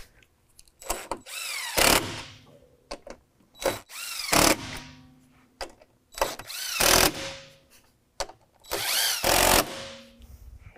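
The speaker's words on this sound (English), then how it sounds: "Next, we'll reattach the 4 bolts up top using the 10mm." A power tool with a 10mm socket drives bolts while a Putco Luminix LED emblem is installed on a Ford F-150, giving four main whirring bursts separated by pauses, each with short trigger blips, close and loud.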